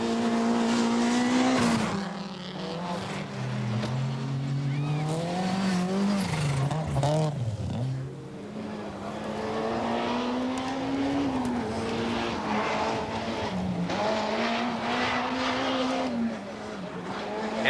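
Toyota rally cars race at the 1988 Rothmans Cyprus Rally on tarmac and loose surfaces, engines revving loudly and continuously with rising and falling pitch through gear changes, up close, under a commentator's voice.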